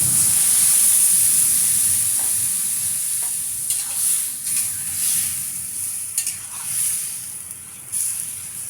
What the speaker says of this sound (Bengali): চাল কুমড়োটা ভালো করে কষিয়ে নিতে হবে।